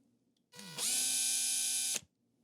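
Power drill spinning a case trimmer while reloading ammunition, a single steady whine of about one and a half seconds that ramps up quickly, holds level and cuts off abruptly, alone without talk.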